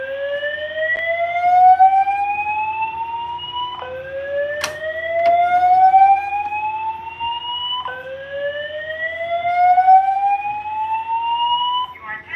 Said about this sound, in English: The fire alarm in this building has been activated.